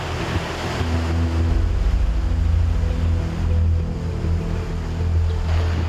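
Ocean surf washes steadily at the beach of Jangho harbour during typhoon conditions, a continuous broad roar with wind buffeting the microphone and a low rumble throughout, no voices.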